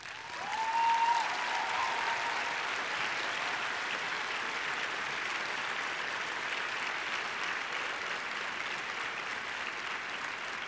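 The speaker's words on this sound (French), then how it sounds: "c'est le temps d'applaudir chaleureusement les nouveaux docteurs." Sustained applause from a large audience at a university graduation ceremony fills the space, steady and even throughout, without voices standing out.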